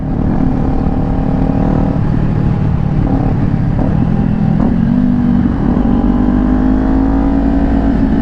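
A Kawasaki Ninja 400 two-cylinder motorcycle engine drones loudly and continuously while ridden on the road, its pitch rising and falling with throttle changes and steady wind roar beneath, no talking.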